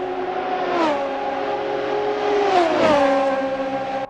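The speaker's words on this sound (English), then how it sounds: "The roaring engines are echoing maybe today Satan's battle cry." Radical SR3 race car engines in Assetto Corsa, racing at Mosport, drone and howl loudly in layered tones, shifting pitch as they rev and change gear, with a sharp drop and upshift near the end.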